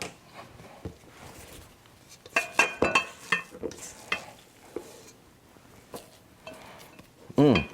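Sicilian fig cookie dough being mixed in a bowl makes irregular clinks, scrapes and thumps of a utensil against the bowl, some louder and closer, with a voice speaking briefly between them.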